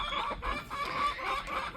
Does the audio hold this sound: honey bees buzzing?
no